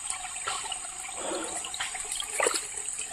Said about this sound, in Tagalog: Masyadong malakas ang ulan ngayon.